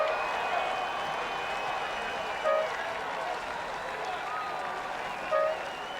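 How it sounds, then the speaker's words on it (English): Crowd cheering and applauding for Canadian Olympic rowers at a race, a steady distant roar of many voices under a commentator's voice, with a couple of brief swells. "Canadians cheering here and right across the country"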